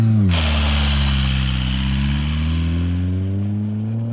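A diesel Chevrolet Colorado pickup with a suspect radiator revs hard close by, its engine note climbing sharply and then holding a steady, rumbling drone with rising harmonics.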